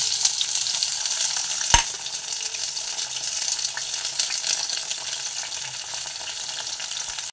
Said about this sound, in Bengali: তেলটা গরম হওয়ার পর দিয়ে দেবো এই উপকরণগুলো যেগুলো কেটে রাখা ছিল